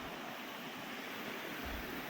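A river flowing along a hiking trail, a steady broadband rush of water heard at moderate distance with no talk over it.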